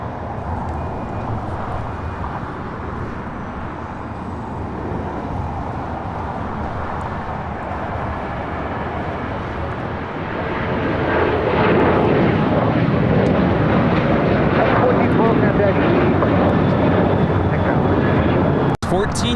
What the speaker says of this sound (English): Taking off to Liberia on a 737-800